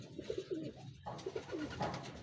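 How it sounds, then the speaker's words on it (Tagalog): Racing pigeons coo softly in a series of low, repeated burbling calls, nearby but faint, split by a short pause and with no talking. "Bali yun nga mga kalapatid, oh."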